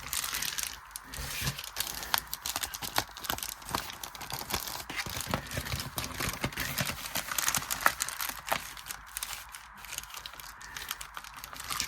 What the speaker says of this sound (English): So we fold that up, and we fold this down.